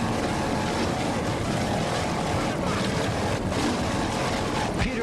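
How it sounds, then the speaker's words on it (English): Offshore racing powerboat from the 1986 Islamorada Budweiser 100 in the Florida Keys, engines roaring steadily and close as the throttles are worked over the waves, with a faint voice underneath. "You can just hear him work those throttles in and out of the water right now."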